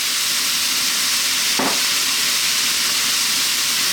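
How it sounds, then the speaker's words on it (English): Cooked noodles hit a very hot wok for chicken chow mein, setting off a loud, steady sizzle and hiss, with a brief burst of crackle as they land and no talking. "Now we're going to drop in our noodles,"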